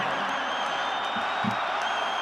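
An audience at a televised political debate applauds, a dense continuous wash of clapping with a few louder claps standing out, cheering faintly mixed in.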